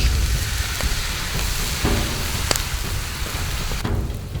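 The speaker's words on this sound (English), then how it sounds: "I'm just going to dump some water on there. And that water is going to pop all the old food and stuff off of there." Water dumped into a hot cast iron skillet over a wilderness campfire sizzles and crackles loudly, the steady hiss broken by a few sharp pops from old food residue lifting off.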